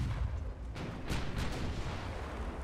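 Warship secondary guns firing in the naval game Ultimate Admiral Dreadnoughts: a few dull, muffled booms rolling into one another over a low, continuous rumble, with no voices.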